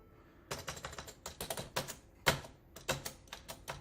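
Keys pressed on an Amstrad CPC 664 keyboard after a membrane repair, a close, dry run of clicky keystrokes in irregular bursts with no talking.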